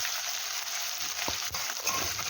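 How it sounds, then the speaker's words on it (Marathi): Finely chopped onion, two medium onions, drops into hot oil already crackling with cumin and mustard seeds, giving a loud, continuous close-up sizzle with small pops and a stirring scrape, no voices. "जिरे आणि मोहरी तडतडल्यानंतर यामध्ये आपण कांदा टाकून घेऊया"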